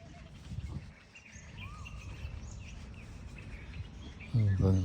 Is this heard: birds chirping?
yes